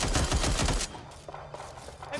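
Gunfire in the Watch Dogs Legion video game: a dense burst of rapid shots up front, then sparser scattered pops further off over a low rumble.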